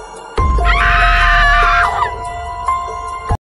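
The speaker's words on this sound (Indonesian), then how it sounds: "suara jeritan keras terdengar sebelum layar menjadi hitam" A loud, piercing scream in a horror tale, one sustained shriek over a low droning background that ends abruptly in silence.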